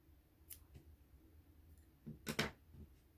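Small scissors snip through crochet thread in a few quiet, sharp cuts, one brief snip early and a louder double snip near the end, with no talking.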